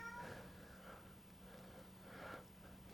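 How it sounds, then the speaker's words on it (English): A cat meowing: two or three soft, drawn-out meows spaced apart, faint and quiet over a low steady background hum. "I know we've got the cat going now."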